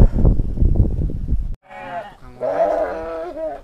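Sheep bleating in a village: after a burst of nearby rustling and knocking, a loud, close, wavering bleat sounds twice in quick succession.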